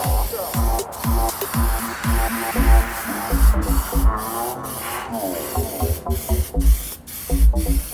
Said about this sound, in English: I'm gonna go ahead and finish this and give it some protection with some spray lacquer